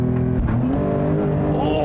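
Porsche 911 Turbo (2021) launching hard from a standstill in Sport Plus, engine roaring loud and close with rising revs over about two seconds.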